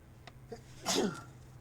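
A single sneeze, moderately close, with a sharp burst and brief tail, preceded by a couple of faint clicks in a quiet room.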